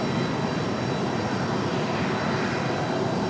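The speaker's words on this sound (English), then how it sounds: "So our third go-around of the evening." Airliner going around at Raleigh-Durham airport amid wind shear, a constant, loud jet engine roar with a high whine on top, holding steady with no speech.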